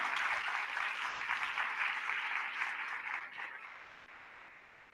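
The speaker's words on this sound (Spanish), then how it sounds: "Un aplauso, por favor." Applause from an audience at a conference panel discussion, a dense wash of clapping that holds steady for several seconds and then thins and fades toward the end, heard at a moderate distance.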